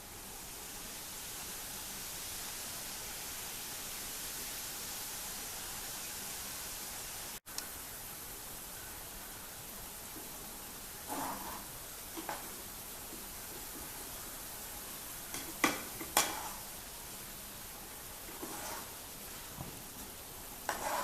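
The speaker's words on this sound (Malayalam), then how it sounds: "ഇനി നമുക്ക് സേവും കൂടെ ഫ്രൈ ചെയ്തെടുക്കാം." Sev noodles frying in hot oil for a spicy Kerala mixture, a steady broadband hiss with a break partway through, then softer sizzling with scattered crackles and pops.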